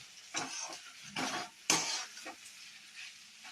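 Bhindi masala, okra in a pan, is stirred and tossed in short scraping bursts over a soft sizzle of frying oil, with a few sharper clinks of the spoon against the pan.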